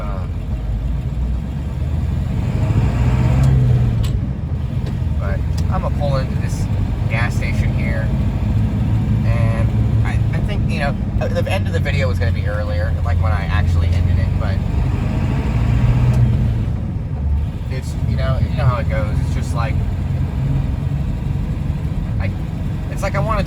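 A truck engine hums and rumbles at low pitch while driving, with slight surges in revs, steady throughout under someone talking almost continuously in the cab.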